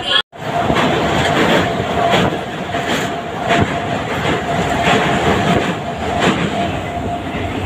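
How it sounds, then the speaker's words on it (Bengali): A local passenger train from Digha to Howrah runs at speed with a loud, steady rumble and rhythmic wheel clatter heard from inside a carriage, after a brief cut near the start. "এই সাঁতরাগাছি জংশন পর্যন্ত যাওয়ার এই ট্রেনটি"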